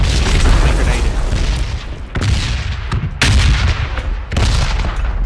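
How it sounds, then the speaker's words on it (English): Loud booms from a grenade explosion and gunfire fill a match of the video game PUBG Battlegrounds, heavy and continuous, with voices talking over the din. "watch out for the grenade"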